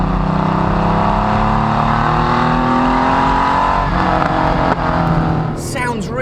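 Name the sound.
Porsche 993 RS engine with Dansk twin-exit exhaust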